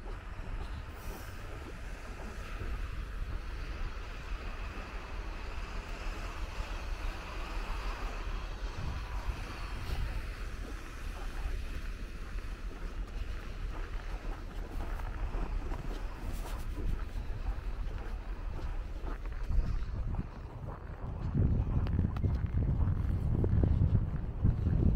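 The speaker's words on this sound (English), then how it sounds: "the wind is blowing." Wind blows outdoors during a walk toward a Russian town in late November, a steady broad roar with gusty swells, heavier low buffeting near the end, and no speech.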